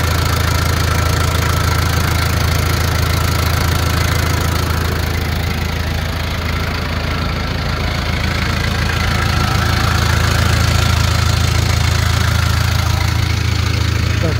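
Komatsu D20A-5 bulldozer with its 39 hp diesel engine running steadily nearby, a loud, constant low rumble with a knocking chug that stays even throughout.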